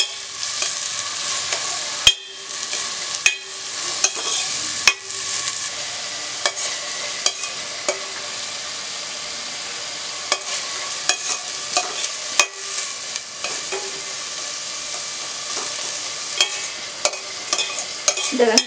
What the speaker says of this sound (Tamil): இந்த வெங்காயம் நல்லா வதங்கணும்.